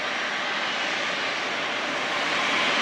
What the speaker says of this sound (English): Might have a go around here with the plane landing.